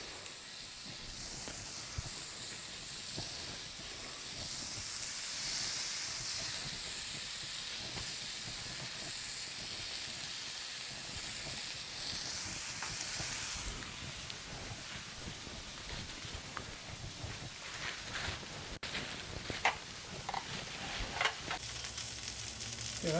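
Pre-made burger patties of plain meat sizzle on a Blackstone flat top griddle, a steady close hiss of frying running throughout, with some scraping and clatter toward the end.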